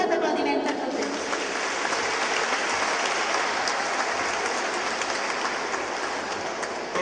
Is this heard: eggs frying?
no